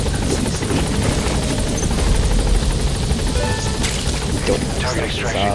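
A helicopter in Metal Gear Solid V: The Phantom Pain gives a loud, continuous rotor chop throughout, with game voices and a commentator talking over it.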